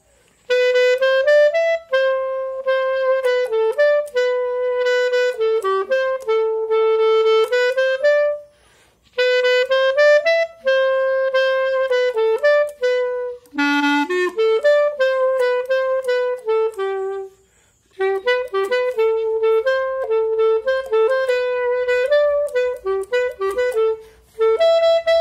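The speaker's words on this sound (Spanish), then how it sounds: "Cuando el clarinete empiece a tocar" A clarinet plays the tune El Negro Cirilo, a bright, continuous melodic line in phrases of quick notes with brief pauses between them, loud and close, with no voices.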